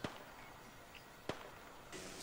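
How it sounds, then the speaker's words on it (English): Gunfire rings out in a match of the video game Apex Legends. A couple of sharp, distant-sounding shots crack over a low, murky background, with a brighter burst of noise near the end. "the enemies are shooting at me"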